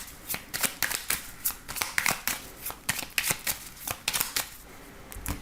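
Oracle cards, including the Béline oracle deck, are shuffled and cut for a tarot reading in a string of soft, rhythmic riffling bursts, close and fairly quiet, with no voice over them.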